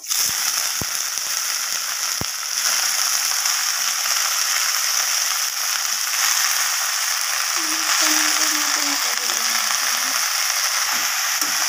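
Red amaranth leaves dropped into hot oil with fried garlic, giving a steady loud sizzle and crackle that continues throughout, with faint clinks of a utensil stirring near the end.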